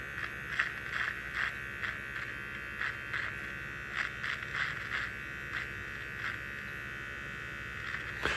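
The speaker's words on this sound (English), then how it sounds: "I'm angling the clipper up, sort of like towards my nose" An electric hair clipper trims a beard, holding a steady nearby motor whine with repeated brief louder bursts as it passes through the hair.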